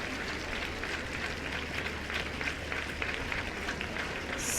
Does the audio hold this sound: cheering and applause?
yes